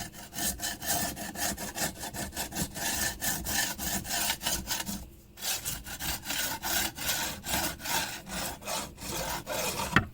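A triangle file rasps a burr off a chainsaw bar in quick back-and-forth strokes, a close, scratchy rhythm with one brief pause midway.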